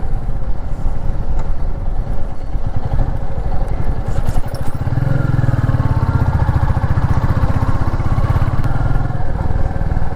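A Royal Enfield Meteor 350 being ridden on a road gives a loud, continuous thumping engine drone, its note thickening partway through as the rider accelerates, heard up close without speech.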